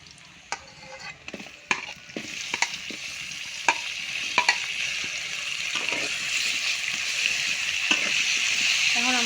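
Sliced bamboo bitter gourd frying in a pan, a continuous hiss of sizzling oil that grows steadier, punctuated by sharp clacks of a spatula stirring against the pan.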